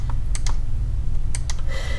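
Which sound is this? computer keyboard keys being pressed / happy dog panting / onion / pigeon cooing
computer keyboard keys being pressed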